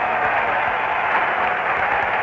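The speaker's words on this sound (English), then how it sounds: "Once again, a standing ovation." A baseball stadium crowd gives a standing ovation at a World Series game, a dense, steady wash of applause and cheering that fills the moment without a break.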